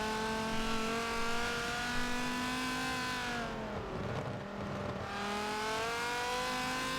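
Race car engines on the Brands Hatch circuit in Forza 7, a steady high engine whine that dips as the car brakes and downshifts near the middle, then climbs again under acceleration.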